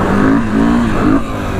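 A Honda XR200 dirt bike on a practice loop revs loudly up close, its engine note rising and falling in a few quick surges before easing off.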